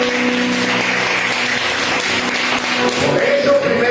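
A church congregation claps together in a dense, continuous patter, loud and sustained for several seconds.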